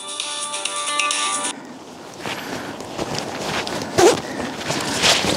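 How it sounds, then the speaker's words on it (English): A cell phone alert tone rings out steadily for about a second and a half during an outdoor hike, then cuts off, leaving footsteps and rustling on the trail. "I'll not answer that cell phone message."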